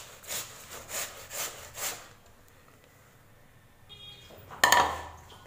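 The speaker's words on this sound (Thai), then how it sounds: "การใช้ที่ขูดแบบนี้ต้องระวังมือนะคะ" Potato being scraped against a hand grater into long thin strips, five rhythmic rasping strokes, close and fairly quiet, then a pause and a brief metallic clatter.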